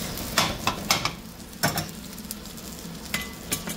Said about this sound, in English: we're just gonna cook off the chorizo